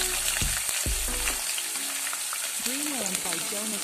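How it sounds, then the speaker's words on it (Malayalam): Coconut pieces and mustard seeds fry in hot oil for a soya chunks masala, giving a steady, close sizzle throughout with a few stirring knocks early on and brief whistling tones near the end. "കടുക് പൊട്ടി നമുക്ക് തേങ്ങാക്കൊത്തൊന്ന് വരയ്ക്കാം."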